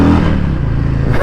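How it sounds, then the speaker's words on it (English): A 2020 Harley-Davidson Breakout motorcycle revs in first gear, a brief, loud, close rumble from the exhaust that holds steady for about a second, with no talking. "Let's give it a little tunnel exhaust, see how she rips in first."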